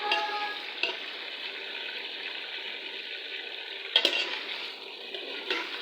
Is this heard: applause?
no